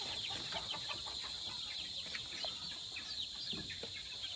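Newly hatched chicks, about eight days old, peep with faint, high, rapid chirps scattered over steady background noise, with no talk.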